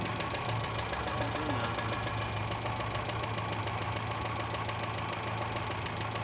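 A Renault 9 engine idling with a knock, giving off a fast, regular metallic tapping over a steady low hum, heard close and continuous throughout.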